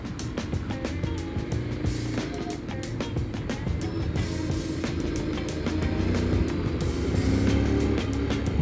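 A Honda X-ADV 750 automatic motorcycle on the move, with a steady engine drone and road and wind rumble that swells slightly through a shift, with no talk.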